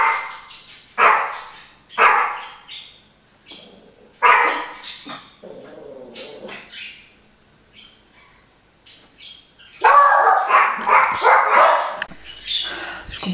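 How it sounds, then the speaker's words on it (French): Dogs bark loudly in repeated bursts with pauses between them, growing into a denser flurry toward the end, while birds chirp faintly in the background. "Je comprenais pas pourquoi elles aboyaient comme ça depuis tout à l'heure."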